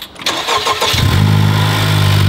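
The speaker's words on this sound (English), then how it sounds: "Let's see what the actual intake sounds like." A Honda Civic FL5 Type R four-cylinder engine with a drop-in intake filter cranks and fires up close and loud, then settles into a steady, throbbing idle.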